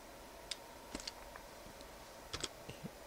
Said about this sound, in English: typing DIR again.